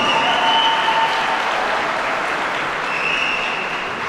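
An audience at a boxing fight night breaks into a loud, dense round of applause, sustained clapping from many hands that holds steady for several seconds without any voices on top.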